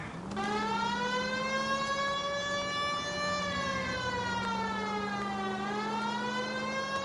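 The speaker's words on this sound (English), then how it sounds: "Do you not hear the sirens?" A loud police siren in the video game L.A. Noire wails steadily, its pitch rising and falling in a slow sweep, close and unbroken across the whole stretch.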